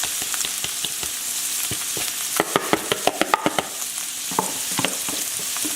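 Peppers and scallions fry and sizzle in a pan while being stirred, with a steady close hiss broken by scraping and clicking utensil strokes, a quick cluster of sharper knocks in the middle.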